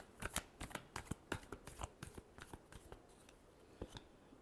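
Tarot cards are shuffled in quick, crisp riffles and taps, a steady run of short papery bursts heard close and quiet with no talking.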